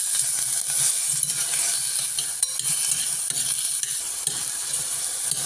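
A green chilli hits hot oil in a frying pan, sizzling with a steady, close crackle and hiss, with faint stirring scrapes and clicks and no voices.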